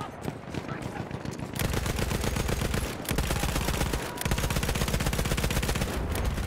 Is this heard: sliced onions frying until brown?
no